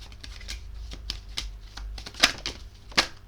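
Tarot cards being turned over and shuffled at a table during a reading, a quick run of crisp flicks and slaps with two sharper snaps near the end, close and alone.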